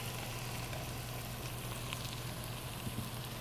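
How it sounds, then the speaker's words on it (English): Ground turkey for a butternut squash chili fries in a pan with a steady, dense sizzle at moderate volume, alone and without talk. "I'm going to go ahead and add our ground turkey as it calls for next."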